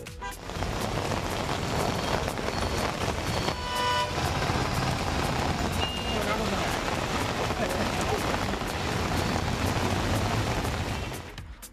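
Rain falling across town streets in Tamil Nadu: a constant broadband wash of rain noise mixed with passing traffic and brief horn toots, steady throughout, with a voice partly audible underneath.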